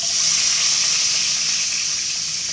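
Onion frying in hot cooking oil for chicken pulao, a loud, steady, close hiss of sizzling that holds evenly throughout with no talk.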